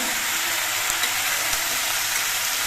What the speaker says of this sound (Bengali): এবার বেশ কিছুক্ষণ সময় নিয়ে সবজিগুলোকে ভেজে নিতে হবে